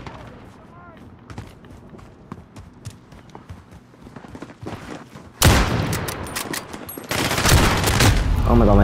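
M2K carbide gunfire from a first-person shooter game, a rapid stream of sharp shots that starts sparse under a talking player, then bursts into loud sustained automatic fire in the second half.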